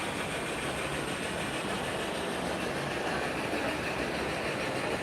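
A model train runs on a layout at a national train show, giving a steady mechanical rumble and whir with a busy hall murmur behind it, continuous and fairly close.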